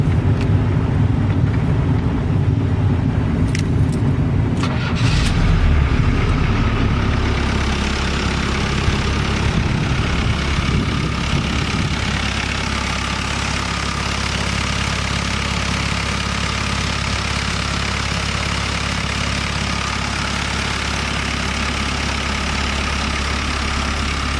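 A Chevrolet Monte Carlo in rough condition fires up with a brief cranking burst, then settles into a steady, loud low idle that runs on evenly.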